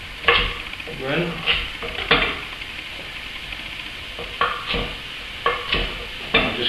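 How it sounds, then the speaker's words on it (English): A spoon stirs vegetable stock with carrots and celery in a pot, giving repeated close scraping and swishing strokes in an irregular rhythm over a faint background hiss. "I'll just give my vegetable stock a wee stir around."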